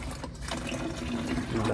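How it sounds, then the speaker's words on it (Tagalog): Water gushes steadily from a damaged stainless steel manual water pump, a continuous loud splashing flow that holds for the whole moment with no talk over it. "Maski slightly mo lang siya na pinapump. Ang dami ng tubig."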